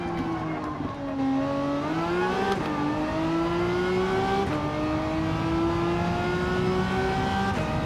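A racing game car engine revving high near its shift point, a steady loud whine that climbs and dips in pitch with throttle changes, continuous and close with no talking.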